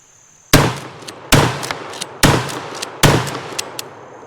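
Four loud, sharp shotgun blasts from an Ithaca 37 M&P pump shotgun made in 1971, fired close by at a steady pace of roughly one shot every second, each blast followed by a short ringing decay.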